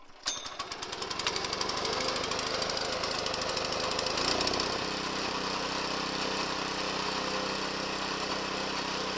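Core aerator's small engine yanked to life with a pull cord, catching with a rough burst and settling into a loud, steady, close idle-like chug with a clattering mechanical rhythm, no talking.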